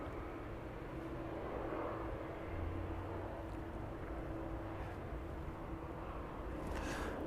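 A DHL Boeing 767 pushes back at the gate at East Midlands Airport, bound for Cincinnati in the evening, its engines a steady, broad rumbling roar that holds at an even loudness throughout.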